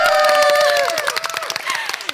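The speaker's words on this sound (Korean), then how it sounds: "행복한 박수 시작!" Group applause at a church mission workshop gathering, clapping that rises under fading sung or spoken voices and continues in quick scattered claps.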